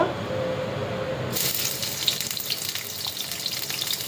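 Onions and green chilies hitting hot oil, a sudden loud sizzle that bursts in after a quieter moment and then holds as a steady, hissing fry close by.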